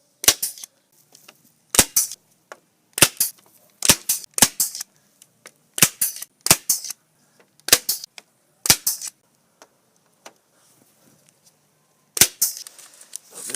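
A staple gun fires into wooden lattice while a pergola is built over a hot tub: sharp, loud single snaps and quick pairs spaced irregularly across the span, close by, with quiet gaps between and no speech.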